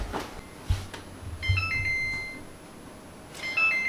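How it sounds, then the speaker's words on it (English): A kitchen timer chirps in short electronic beep bursts, ringing twice with a pause between, over faint kitchen clatter and a couple of soft thumps. "our timer's going off,"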